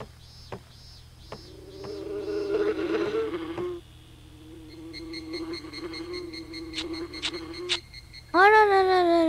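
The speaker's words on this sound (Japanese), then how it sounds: "蜂！" A buzzing bee in the video game Boku no Natsuyasumi 2 drones steadily for several seconds amid game sounds and clicks, ending in a sharp louder effect.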